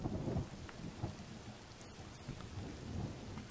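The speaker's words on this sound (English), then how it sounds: "It's starting to rain again." Steady rain patters on surfaces in the survival game The Forest, with low rolling thunder rumbling through the storm and a few brief sharper crackles near the middle; no voices.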